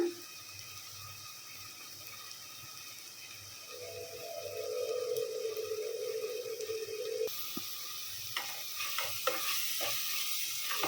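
Chilli powder stirred into a simmering fish curry of gulivindalu in a pan, a soft scraping stir over a low steady sizzle that rises and brightens partway through, with a few clinks of the spoon near the end.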